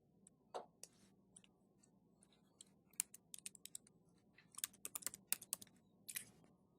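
Keys clatter on a computer keyboard in quiet, uneven bursts of crisp clicks with short pauses between them, then a quicker flurry of taps near the end.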